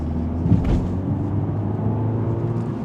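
2025 BMW 228i xDrive in sport mode pulling up to speed, a low engine rumble and road noise from inside the cabin, moderate and steady, with a brief bump or knock early on.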